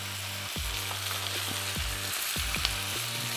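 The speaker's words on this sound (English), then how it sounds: "now that the steak's been cooking for some while, we're gonna go ahead and we are gonna add some garlic" Steak frying in a hot pan gives off a steady, close sizzle, with periodic low thumps and scraping as the meat is moved or stirred.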